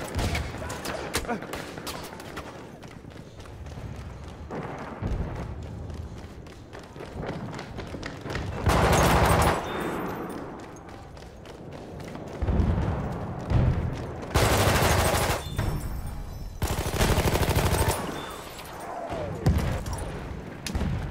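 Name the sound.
gunfire from a hated weapon in video game Battlefield 1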